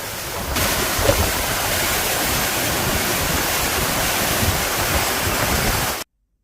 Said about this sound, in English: Once you get up to the Bride's Veil waterfall, there's a little viewing platform that you cross over to, and it's incredibly powerful here